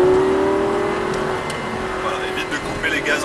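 A Lamborghini LP 560 engine holds a steady, loud drone at constant throttle on track, with a faint rise in pitch and some higher whirring near the end.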